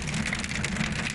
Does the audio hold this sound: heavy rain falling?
yes